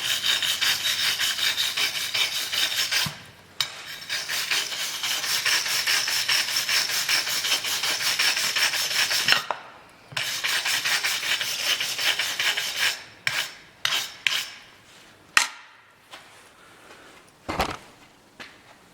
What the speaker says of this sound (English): this is a wire brush that I only use on aluminum